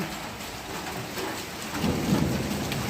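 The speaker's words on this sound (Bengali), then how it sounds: "কীরকম আকাশ ডাকছে আর বৃষ্টি হচ্ছে বলো।" Thunder rumbles low and rolling through a steady wash of rain falling on surfaces, with the rumble swelling louder toward the end.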